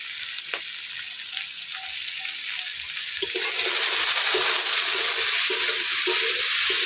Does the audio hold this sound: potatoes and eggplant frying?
yes